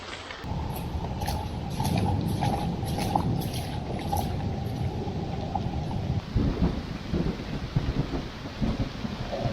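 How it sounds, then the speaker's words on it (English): Low rolling thunder rumbles beneath steady rainfall at an outdoor campsite, with a faint tonal hum through most of it before the sky noise lightens and scattered patter continues. "I heard thunder in the background and lightning"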